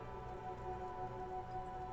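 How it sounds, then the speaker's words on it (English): Steady rain patters on a woodshed roof in a video game, a soft, continuous hiss with a faint tonal hum underneath and no talking. "Rain falls onto the roof of a woodshed."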